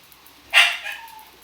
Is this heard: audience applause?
no